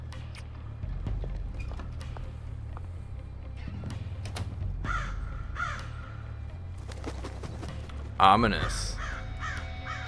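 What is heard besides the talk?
crow cawing, from the video game Wolfenstein: The New Order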